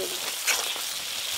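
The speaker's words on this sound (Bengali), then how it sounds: "মশলা কষানো হয়ে গেছে, এবার জল দেব।" Water poured into a pan of fried spice masala, sizzling loudly as it hits the hot oil, a dense hissing crackle with a brief surge near the middle.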